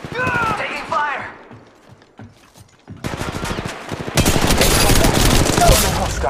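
Gunfire in the Apex Legends Mobile video game: rapid automatic bursts and rattling shots, close and loud, with mechanical clicks, a quiet gap midway, then dense sustained firing.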